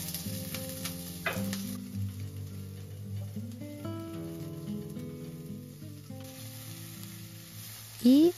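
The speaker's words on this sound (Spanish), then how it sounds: "Y acitronaremos muy bien nuestra cebolla." Onion sautés in a pan in a home kitchen, giving a soft, steady sizzle throughout with faint stirring, ending in a short louder scrape.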